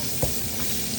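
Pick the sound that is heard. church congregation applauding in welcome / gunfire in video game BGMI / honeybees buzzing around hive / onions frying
onions frying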